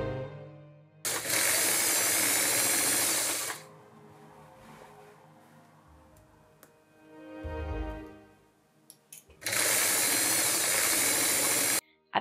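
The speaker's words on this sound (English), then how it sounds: "I brought out my overlocker and just zoomed right through them." An overlocker serger stitches through the matched seams of a reconstructed Edwardian skirt in two loud, steady whirring runs of a few seconds each, separated by quieter handling of the fabric.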